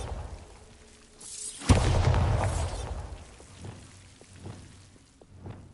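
A Bombarda spell goes off in Hogwarts Legacy with a sudden loud blast that rumbles and fades over a couple of seconds, followed by softer scattered impacts.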